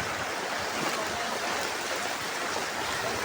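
Floodwater from Typhoon Enteng rushes like a river down a street, a steady, full roar of flowing water with no breaks, close and continuous.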